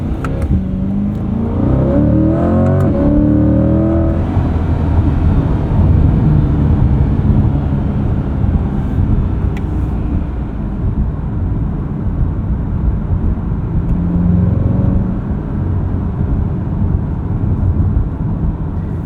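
A 2025 Chevrolet Corvette Stingray 3LT revs and drones through its performance exhaust, climbing in pitch early then settling into a steady, loud rumble as it drives.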